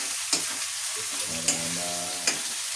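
Food sizzles close up in a hot pan, with three distinct scraping stirs punctuating the steady frying hiss.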